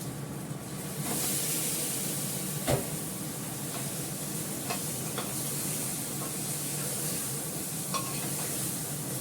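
Meat added to a well-fried spice base and cooking in a pan, a steady close sizzle with a few sharp clicks and scrapes of stirring, no voices.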